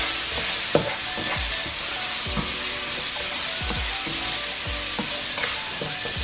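Onions fry in a pan with spices and a cinnamon stick, giving a steady loud sizzle while a utensil stirs and scrapes in irregular knocks, with no voices.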